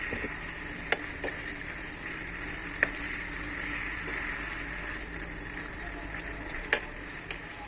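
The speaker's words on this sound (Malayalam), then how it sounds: "നമുക്കൊന്ന് ഇളക്കി കൊടുക്കാം" Chicken curry simmers in a pan with a soft, steady bubbling hiss. A few sharp clinks of a spoon stirring it stand out, quiet and close, with no talking.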